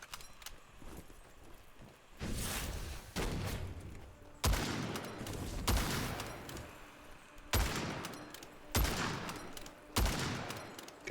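Repeated gunfire in the first-person shooter Witchfire: a series of blasts and shot bursts at irregular intervals over about eleven seconds, moderately loud with echoing tails between them.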